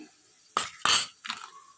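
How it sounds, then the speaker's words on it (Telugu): A mixer grinder jar is picked up and handled in a home kitchen. Three short, close, hard clinks and knocks ring out against quiet. "మిక్సీ గిన్నె తీసుకొని"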